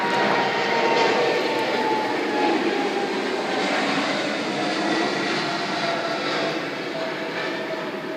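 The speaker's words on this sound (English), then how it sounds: "There goes the other 777." Delta Boeing 777 jet taking off, a loud sustained roar with steady engine drone that slowly eases toward the end, heard alone without voices.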